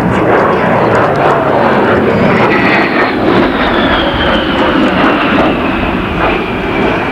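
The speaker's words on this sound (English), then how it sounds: "Captain Fu with the aileron roll" A military jet roars overhead during an aileron roll at a 1991 Kalamazoo, Michigan air show, a loud continuous engine rumble and whoosh that shifts in pitch as it passes.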